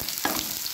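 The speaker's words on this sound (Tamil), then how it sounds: "நல்லா வதக்கி விட்டுக்கலாம்" Chopped onions sizzle and crackle steadily in a hot pan for potato masala curry, with a brief scrape of stirring near the start.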